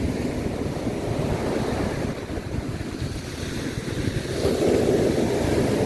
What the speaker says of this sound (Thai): คลื่นทะเลตอนค่ำๆ นะครับ